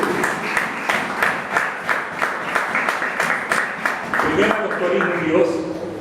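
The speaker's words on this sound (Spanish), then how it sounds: "Den un aplauso fuerte al Señor" A church congregation bursts into loud applause during a Sunday sermon, a steady dense patter of many hands clapping, with some voices and cheers rising toward the end.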